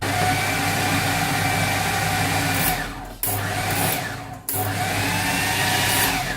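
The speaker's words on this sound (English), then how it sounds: "Okay, so they're just in the food processor. Just give them a wee mix up." A food processor whirs loudly and steadily as it blends cooked beans for vegan oil-free refried beans. The motor cuts out briefly twice and then starts up again, with no voices.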